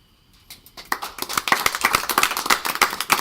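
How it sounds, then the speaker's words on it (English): Applause at a Highland Park borough council meeting, starting from near silence with a few scattered claps and quickly building into brisk, close clapping from a modest room of people. "we should all give the entire Highland Park Department of Emergency Management a huge round of applause"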